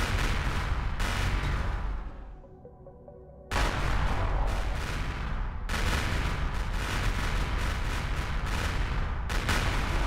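Missile launchers firing aboard a missile frigate in Empyrion, with dense, roaring bursts of launches. The barrage cuts out briefly to a quieter tonal hum, then resumes at full loudness in sustained waves.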